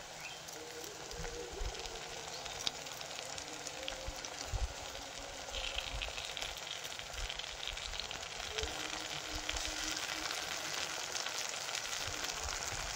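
Crushed garlic, ginger paste and chilli paste fry in hot oil for shol fish kalia, giving a quiet, steady sizzle that hisses on evenly throughout.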